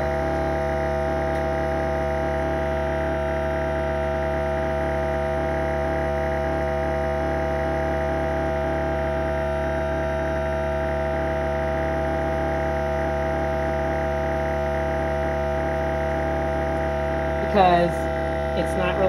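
A vacuum cleaner that is not picking up properly runs with a steady, loud motor hum. The hum stays constant with a strong tonal drone throughout, and a brief clatter comes near the end.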